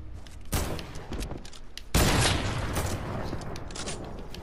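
Gunfire in Fortnite during an arena duo match, a loud burst of rapid shots followed by a sustained blast of firing that continues steadily to the end.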